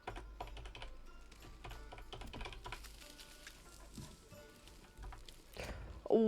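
Rapid, uneven clatter of keys on a computer keyboard while names are typed during a Manor Lords session, close and steady throughout with a low hum beneath and a brief louder burst at the end.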